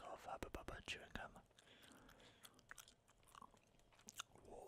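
Two strips of melon Hubba Bubba bubble gum chewed close to a microphone, wet smacking and clicking mouth sounds in an irregular rhythm, soft and intimate, with whispered talk at times.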